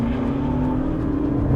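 A McLaren MP4-12C accelerates hard, its engine holding a steady, strong drone with a rising tone, heard close and loud throughout a short burst with no talking.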